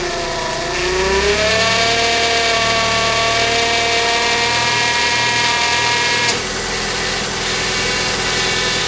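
A 2001-2005 Honda Civic engine with a leaking power steering hose runs steadily at close range, its note rising briefly early on and then settling into a constant idle hum.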